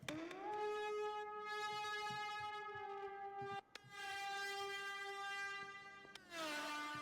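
A thick, buzzy, heavily distorted synthesizer preset with dense harmonics, held in long sustained notes that shift pitch twice, loud and gritty with brief gaps between.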